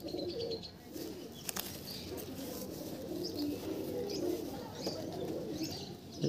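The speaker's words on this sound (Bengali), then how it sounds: "বন্ধুরা দেখো পায়রা কালেকশন দেখো, সবগুলো লাইনের পায়রা দেখতে পাচ্ছ।" Pigeons in a loft coo softly and repeatedly against a quiet background, with scattered chirps and a brief flutter or clack partway through.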